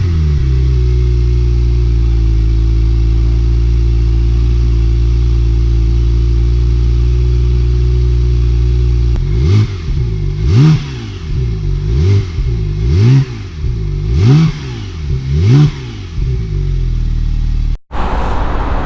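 A 2018 Porsche 911 Turbo S (991.2) with a twin-turbocharged six-cylinder engine, 580 hp, PDK and all-wheel drive, idles with a steady low hum, then revs repeatedly in a series of rising and falling blips before cutting off abruptly.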